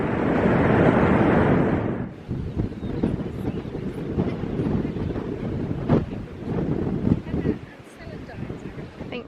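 Strong wind buffets the microphone on a Cornish coastal cliff path, a loud roaring rumble that dominates the first two seconds, then continues as gusty, uneven blowing through the rest.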